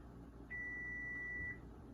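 An oven timer gives a single sustained electronic beep lasting about a second, clear and steady over a quiet kitchen background.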